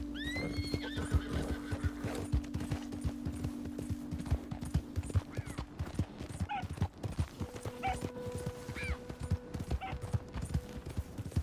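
A horse in Red Dead Redemption 2 whinnies high near the start, then clip-clop hooves thud steadily over the ground, with further snorts and faint dog-like yips scattered through.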